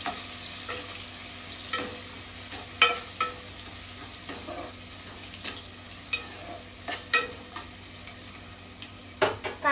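Chopped onion fries with cumin seeds in hot oil for palak paneer, a continuous close sizzle punctuated by regular sharp clinks and scrapes of a spoon stirring against the pan.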